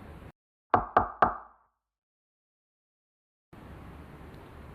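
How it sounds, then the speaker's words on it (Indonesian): Three crisp knocks on a door in quick, even succession, close and loud, ringing briefly against silence before a low room hum returns. "Suara ketukan pintu membangunkannya."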